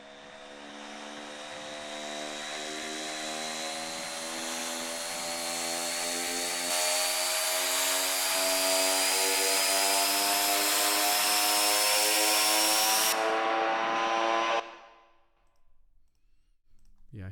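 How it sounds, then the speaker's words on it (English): An electric jigsaw runs steadily with a loud, bright, buzzing motor whine that builds slightly in intensity, then cuts off abruptly, leaving near silence. "Jigsaw."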